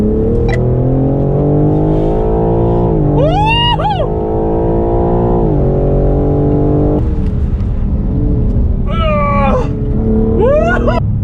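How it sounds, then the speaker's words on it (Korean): BMW M4 with a 510-horsepower engine, floored to full throttle in a BMW driving centre parking lot; a loud, continuous engine roar climbs steadily through the revs with shifts, close up, with brief squealing tire or whine bursts over it. "운전대 풀어주시면 이번에 가속 깊숙이 밟을게요. 쭉 풀가속까지 밟겠습니다"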